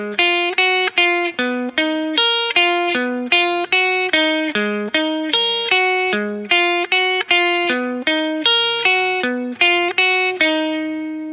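Guitar plays a repeating riff from a song, run through effects, with evenly picked notes ringing over a steady, loud rhythm and no talking.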